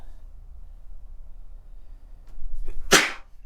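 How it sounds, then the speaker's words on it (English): A single sharp, forceful sneeze bursts out near the end, loud and close, after a few seconds of quiet room noise. "I'm going to sneeze in a second."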